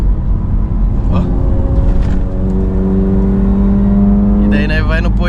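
Honda Civic Si engine hums steadily from inside the moving car, its tone rising and falling with the drive, while voices talk over it throughout.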